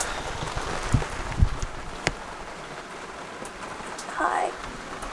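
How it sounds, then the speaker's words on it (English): Rain patters steadily on a sailboat, a soft continuous hiss with a few louder drips and knocks early on and a brief rustle near the end. "It's raining."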